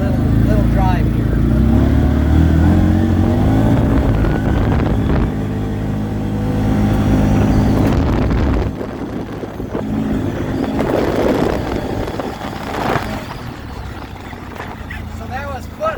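A CFMoto Z-Force 950 Trail side-by-side with Hester Edition Elka shocks is driven hard on a motocross track, its engine roaring loud and close with heavy wind buffeting, easing back partway through.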